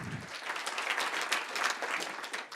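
Brief, steady applause from an audience at an open data conference's opening session, a dense patter of clapping lasting a couple of seconds.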